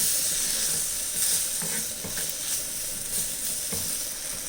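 Chopped tomato sautéing with spice masala in a pan, a steady hissing sizzle with occasional stirring clicks and scrapes, close and even.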